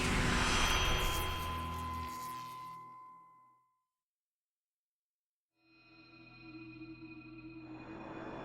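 Passenger jet in flight at night on approach to Perm, Russia: a loud tonal engine drone fades out into near silence, then swells back up with a bright whine.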